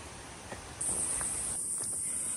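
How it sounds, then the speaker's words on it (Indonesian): Cicadas in a tropical forest set up a loud, steady high-pitched buzz, with faint scattered bird calls and light rustling beneath it. "Suara burung, suara tongeret pasti banyak."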